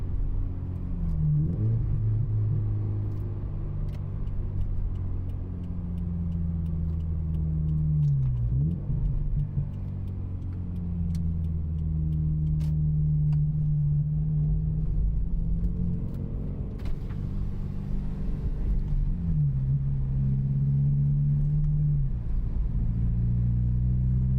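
A car engine rumbles close by and is revved several times through a SuperTrapp exhaust with all ten plates fitted, its low drone rising and falling between idling stretches.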